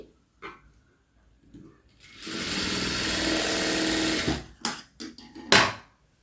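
A sewing machine stitches a sleeve hem in one steady, buzzing run of about two seconds, followed by a few sharp clicks and knocks.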